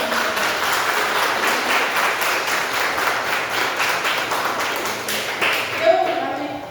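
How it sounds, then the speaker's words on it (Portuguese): A church congregation at a special women's service applauds to honour the women who worked backstage, a broad, steady wash of clapping that carries on for several seconds with faint voices mixed in. "eu queria que você desse uma salva de palmas para honrar as meninas que trabalharam, que estiveram no bastidor"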